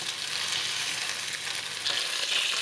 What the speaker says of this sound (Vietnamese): Sau đó chiên sơ, lưu ý là cái này mình chỉ chiên để cho cái da nó không tanh thôi, không có chiên vàng.